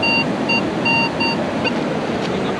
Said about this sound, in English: I guess the waves are coming back in now.